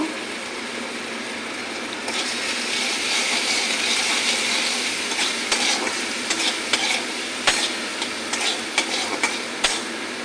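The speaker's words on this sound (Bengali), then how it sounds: "মশলাটা ভালো করে কষে নিয়ে" Onion and green chilli paste masala with Kashmiri chilli sizzles steadily in a pan while a spatula scrapes and stirs it, with sharper clinks of the utensil toward the end; no voices.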